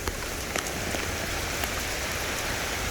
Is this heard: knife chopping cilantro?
no